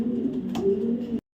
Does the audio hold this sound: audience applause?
no